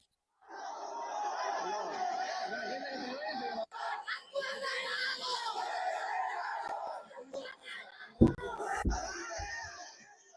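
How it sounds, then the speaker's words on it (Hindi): A crowd at a street protest in Bangladesh raises voices together in loud chanting and shouting of slogans, a dense sustained roar of many people with a brief break and a sharp knock near the end. "और नारे क्या लग रहे हैं वो भी मैं आपको सुना देता हूं"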